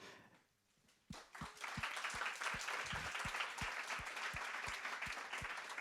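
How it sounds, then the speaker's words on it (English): A large audience bursts into sustained applause for three guests joining a field engineering lunch talk, following a brief quiet moment; dense, steady clapping with sharp individual claps standing out up close. "I would like a huge round of applause for the 3 people that are going to join us right now"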